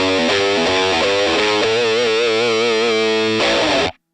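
An electric guitar through a HeadRush pedalboard overdrive plays a short distorted riff of chords and bends, loud and gritty, ending abruptly.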